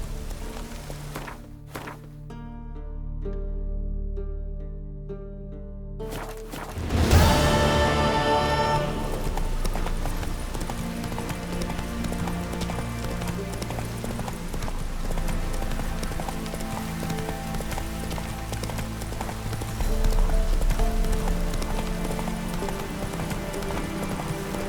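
Horse hooves in The Witcher 3 game, a steady close clip-clop of galloping over continuous game music, with a sudden loud burst around the start of the ride and no speech.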